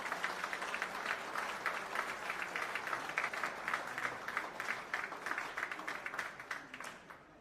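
Audience at a national youth and women convention of bank employees applauding with sustained, dense clapping that holds steady for several seconds and then fades slightly; no talking.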